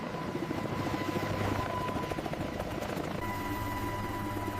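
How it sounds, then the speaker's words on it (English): An Apache attack helicopter lifts off with a steady rotor thump and turbine whine, moderately distant and continuous, with support vehicles nearby. "The Apache lifts off, its mission beginning with support vehicles visible below."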